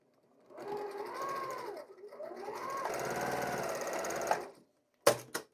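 A sewing machine stitches quilt seams in a steady, fast, close-up whir. It pauses briefly, runs on, then stops, and a couple of sharp knocks follow.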